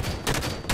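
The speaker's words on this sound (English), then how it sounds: "That's a tank." A Scorpion tank in Halo 5 multiplayer fires, giving a short, loud burst of booming shots and crackling impacts, with two sharp blasts close together in under a second.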